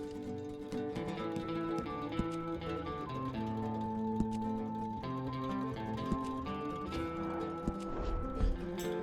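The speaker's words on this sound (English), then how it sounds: "And bring that horse back in." A horse in Red Dead Redemption 2 clip-clops with a steady hoof rhythm, with a brief whinny, under a soft layer of tonal game music, fairly quiet overall.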